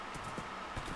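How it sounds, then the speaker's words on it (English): Hoofbeats of a horse in a survival video game, a slower mount being ridden over terrain, with soft irregular clip-clop steps at moderate level and no talking. "this horse is seeming slower than the gold one, actually"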